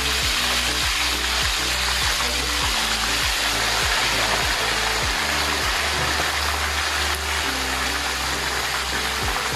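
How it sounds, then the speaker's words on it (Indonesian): Fish fries in hot oil with a steady, loud, dense sizzle and a rhythmic low thumping beneath it that continues without a break, close up and alone. "Sekarang aku masukkan ikannya, kita goreng aja langsung."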